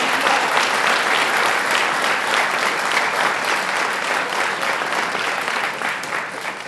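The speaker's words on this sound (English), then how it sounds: "Would you have a round of applause for all those veterans?" A crowd applauds veterans at a Veterans History Project event, the clapping dense, loud and steady throughout, easing off slightly toward the end.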